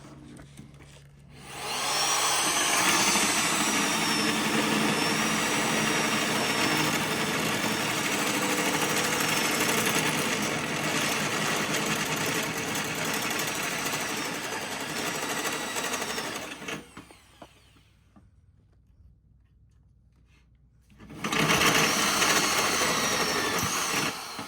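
A drill cuts with a hole saw during a Chevy S10 street build, giving a loud, steady powered whine that runs for about fifteen seconds. It stops briefly and then starts again, with no talk over it.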